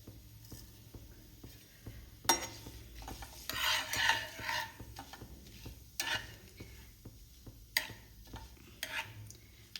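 Black cumin, bay leaf and a whole cardamom pod hit hot mustard oil in a pan, giving a faint sizzle broken by the scrape and clink of a stirring spoon.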